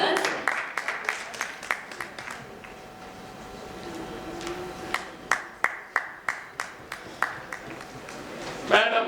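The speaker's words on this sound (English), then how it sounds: "A round of applause." Applause at a prize presentation for a first prize: scattered clapping at first, then a sharper run of distinct individual claps from a small audience, with some background chatter.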